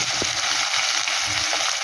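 A large tomato drops into hot oil in a pan for a mourola fish jhal and fries with a steady, close, bright sizzle that fills the short moment without a break.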